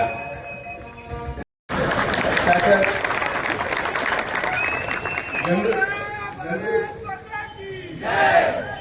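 A large crowd at a public felicitation for Ramesh Jarkiholi breaks into loud applause and cheering, a dense continuous roar with voices shouting over it and an announcer speaking near the end.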